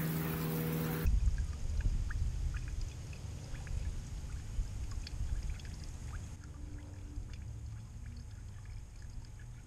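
Water from a garden hose pours slowly into a one-gallon pump sprayer, a steady low trickle and splash that runs continuously after a brief louder burst at the start.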